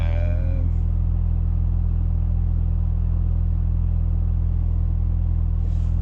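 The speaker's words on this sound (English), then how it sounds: "when it's really cold and I have to let the vehicle warm up" A car engine idles while warming up in the cold, a deep, steady rumble with a constant low hum, close and unchanging throughout.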